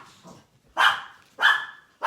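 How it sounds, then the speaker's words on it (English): Dogs barking indoors in loud, sharp bursts, three strong barks spaced about half a second apart after a fainter yip, close by with no talking over them. "Oh, there go the dogs again."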